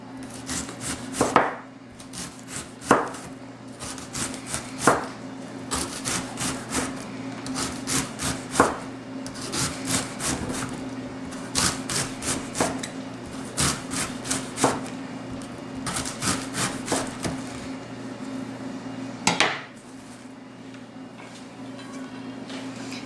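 Cabbage is shredded with a knife on a wooden board, making repeated quick chopping strokes in bursts, close and crisp, with short pauses between runs.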